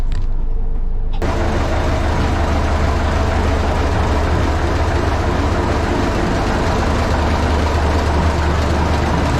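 A boat's engine room aboard a salvaged, rebuilt vessel, with the engine running and the hydraulics switched on: a steady, loud low-pitched drone and hum that starts abruptly after a brief quieter moment and continues unbroken.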